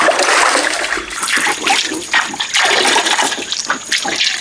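A country rooster, scalded and plucked, is washed in water for biryani, giving continuous splashing, trickling and pouring close up with uneven bursts of sloshing and no talk.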